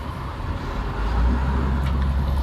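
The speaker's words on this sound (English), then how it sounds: "I'm driving a car right now. Not going very fast." Car moving slowly through Los Angeles, a soft steady low road and engine rumble heard from inside, swelling slightly midway, with no talk.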